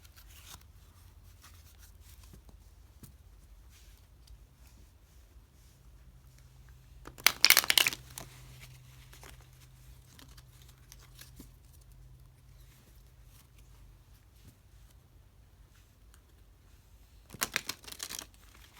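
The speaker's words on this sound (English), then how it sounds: "I'm going to shuffle them again" Tarot cards being shuffled by hand, heard as two brief papery bursts several seconds apart over a quiet, low room hum.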